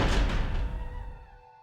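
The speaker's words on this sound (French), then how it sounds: "arrête de foutre des coups de pied dans les portes" A door kicked in Resident Evil: a single heavy thud with a booming low end that rings out and fades over about a second and a half, fairly close and loud.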